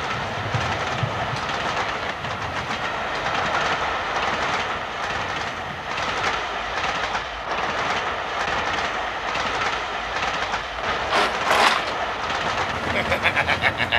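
A train runs on rails with a continuous rumble and rhythmic clickety-clack that grows busier near the end, while people talk over it.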